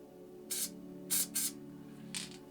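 Molotow Coversall water-based acrylic spray paint hisses from a can in four short bursts, the middle two close together, each a bright, near hiss over a faint steady hum.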